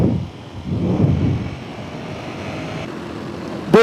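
A Ducati Streetfighter V4 motorcycle engine while riding, with no windscreen: a low, pulsing engine rumble comes and goes under steady wind buffeting, ending in a short sharp burst.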